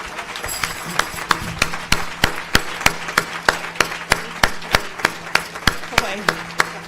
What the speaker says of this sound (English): Give our cook ambassador a round of applause.